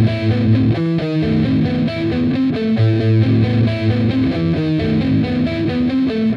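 Heavy distorted electric guitar riff, played with palm muting under a steady, loud full-band mix with bass and drums, repeating its chugging pattern without pause.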